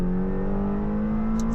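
A McLaren engine revs steadily with a smooth rising drone during a manual upshift into second gear, loud and close with no talking.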